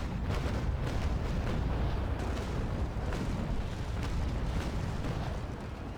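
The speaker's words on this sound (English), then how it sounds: "why my ranging shots were firing from the rear of the vessel" Ship cannons fire ranging shots in the naval combat game Naval Action, heard as a dense, continuous roar of booming blasts and rumble throughout, with no speech.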